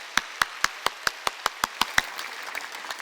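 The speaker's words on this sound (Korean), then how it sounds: "하나님께 감사의 박수" A church congregation claps in thanks to God during a Sunday worship service, about ten sharp, evenly spaced unison claps in a quick rhythm before fading into scattered softer ones.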